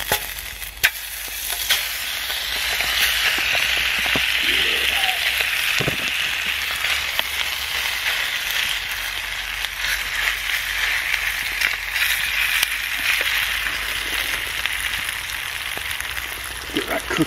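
Chicken sizzles loudly and steadily over a wood fire in a biscuit tin firebox, a dense crackling hiss that continues throughout, with occasional pops and faint movement.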